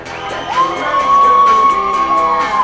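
Crowd at a women's softball game, Orlando Monarchs versus New York Rise, cheering and whooping loudly with a sustained shrill whistle or squeal rising above the steady roar of voices.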